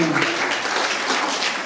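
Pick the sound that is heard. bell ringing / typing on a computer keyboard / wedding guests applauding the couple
wedding guests applauding the couple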